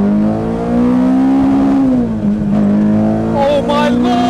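A Honda S2000 with a fully built K24 K-Series engine pulls hard under acceleration, its loud, close exhaust note climbing steadily in pitch, dipping briefly at a shift, then rising again.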